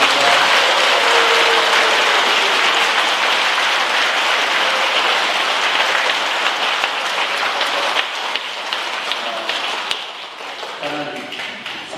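A church congregation applauds during the Easter Vigil Mass at Jeju Dongmun Catholic Church in 2023: dense, sustained clapping that fills the hall, then thins and fades near the end.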